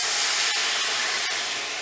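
Pinot Noir poured into a hot pan to deglaze after searing lamb rib chops gives a steady, bright hissing sizzle close up, with a couple of faint ticks in it and no talk.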